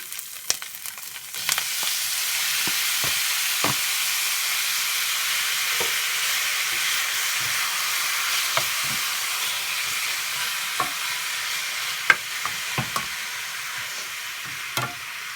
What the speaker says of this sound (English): my onions has been sauteing for about 2 minutes. Now I'm gonna go ahead and add my beef.